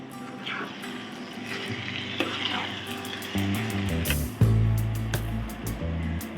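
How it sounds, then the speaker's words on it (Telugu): Stuffed brinjal curry sizzles and fries in a pan while being stirred, with a steady crackle broken by occasional scraping strokes and a louder deep rumble in the second half. "ఒకసారి కలుపుకుందామండి"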